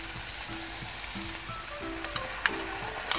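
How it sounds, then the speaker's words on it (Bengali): Chicken added to a pan of sauce bubbling and sizzling steadily at low volume, with a few faint clicks and low tonal hums underneath and no talk. "আমরা এখন এখানে চিকেন বটটা দিয়ে দিচ্ছি।"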